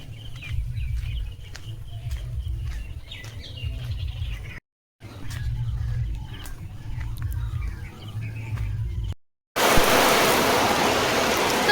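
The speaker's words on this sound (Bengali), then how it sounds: "দেখতে পাচ্ছ বন্ধুরা কি জোরে বৃষ্টি হচ্ছে" Heavy rain in a remote Sundarbans village arrives near the end as a loud, steady, hissing downpour, after quieter outdoor ambience with scattered birdsong and low rumble.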